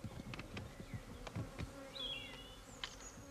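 Honeybees buzz steadily around their hives at a monastery apiary, a low drone with several individual bees passing close by, alone without voices.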